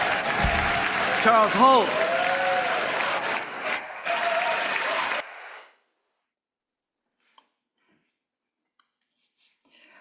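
Church congregation at a Sunday service applauds for several seconds with scattered cheers and a speaking voice over it, then the clapping stops abruptly and near-silence follows with a couple of faint knocks.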